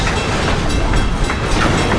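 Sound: train of loaded boxcars rolling over old cross ties

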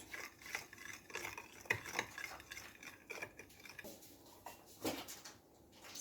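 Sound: stirring warm water and sugar in a bowl

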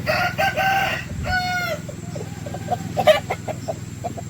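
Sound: rooster crowing, fighting-breed cockerel

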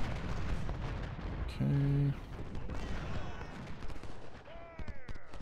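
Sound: gunfire and artillery shooting in Ultimate General: Civil War video game

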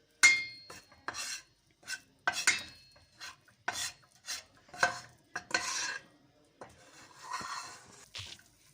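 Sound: stirring and roasting dessert mixture in a pan

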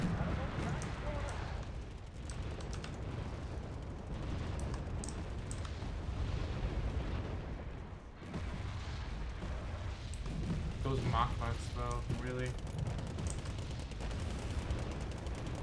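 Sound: gunfire and mortar fire in video game Wargame Red Dragon

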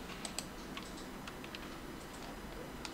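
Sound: computer mouse clicking on a web page

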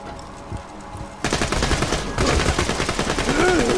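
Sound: sniper rifle gunfire in video game Borderlands 2

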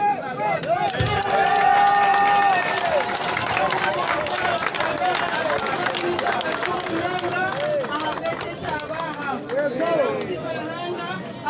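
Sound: crowd clapping and cheering

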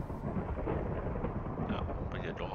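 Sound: thunder from a thunderstorm

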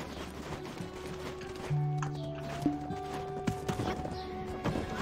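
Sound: horse hooves clip-clop in video game Black Desert Online

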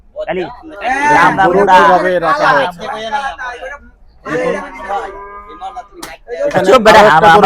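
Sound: cattle at Gabtoli cattle market

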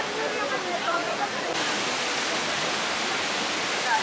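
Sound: splashing water of the Trevi Fountain in Rome

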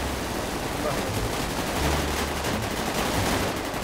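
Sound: gunfire at shooting range in video game GTA 5

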